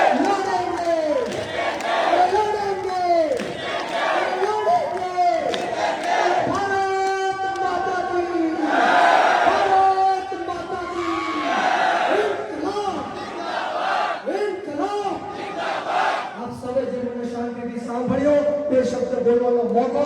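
A large crowd at a Koli community rally chants the slogan "ladenge" in loud, repeated bursts of many voices, with clapping likely mixed in throughout.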